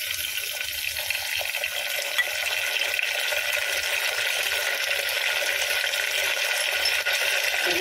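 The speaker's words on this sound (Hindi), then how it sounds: "और इसके साथ ही हम टमाटर ऐड करेंगे।" Tomatoes go into a hot pan of potato sabzi and are stirred, giving a steady, close sizzle of frying with wet scraping and stirring noises throughout, no voices.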